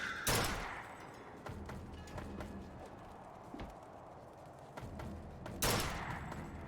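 Gunfire in Bioshock Infinite: a few sharp, loud shots spaced apart, one at the start and one near the end, with smaller cracks and scattered impacts between them over a low background rumble.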